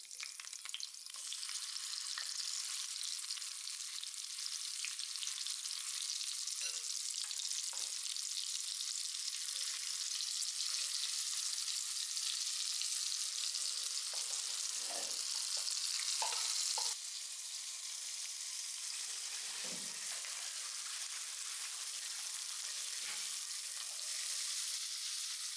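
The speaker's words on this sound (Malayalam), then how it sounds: "ഇനിയിപ്പോൾ നമുക്ക് ഇത് വറക്കാം. വെളിച്ചെണ്ണയിൽ അതാണ് വറുത്തെടുക്കാം." Fish pieces coated with chili and turmeric fry in hot coconut oil, giving a steady, close, loud sizzle that runs throughout, with a few soft clinks and stirring sounds along the way.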